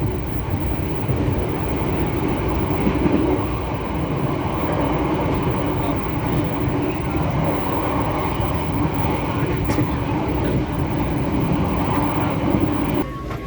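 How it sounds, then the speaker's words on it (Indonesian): A passenger train rumbles continuously along the rails between Surabaya and Semarang in Indonesia, a loud steady roar with faint clattering throughout and no talking. "Kereta api pun sampai di stasiun Randu Blatung."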